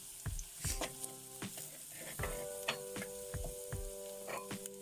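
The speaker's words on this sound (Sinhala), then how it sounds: "දැන් මේ ලිපාඩු කරලා මිරිස් ටික එකතු කරන්න" Chilli pieces crackle and sizzle in hot oil in a pan for a pineapple curry, with sharp popping bursts and a steady frying hiss, close and alone.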